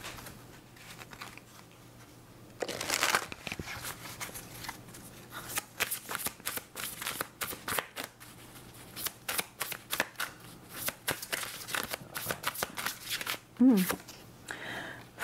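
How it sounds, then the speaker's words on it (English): Oracle cards are shuffled close by in a long run of quick, papery riffles and soft patters, with a brief burst of louder card noise early on and a faint voice at times. "let's pull oracle cards and see what we have for you"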